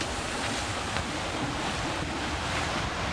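Strong wind of about 25 to 27 knots and breaking waves at sea aboard a sailboat near Donousa, Greece, with whitecaps and spray: a dense, constant roaring rush of wind and water, loud and close, unbroken.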